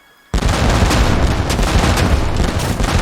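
Ship cannons in an Age of Empires 3 cutscene open with a sudden loud boom after a short silence, then a dense rolling barrage of blasts and crackling fire continues without a break.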